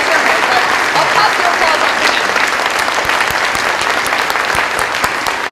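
Loud, sustained audience applause at a skepticism conference panel, dense clapping from a large crowd filling several seconds before stopping abruptly.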